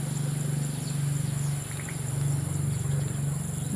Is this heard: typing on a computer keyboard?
no